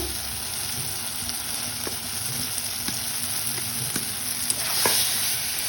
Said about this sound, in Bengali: এখন অল্প আলু দিয়ে কষিয়ে নেব